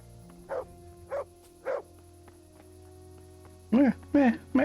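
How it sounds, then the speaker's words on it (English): A dog in the video game Kingdom Come: Deliverance barks in short bursts, three spaced woofs followed by a louder, quicker cluster of three, set against a quiet game background. "Shut up, dog."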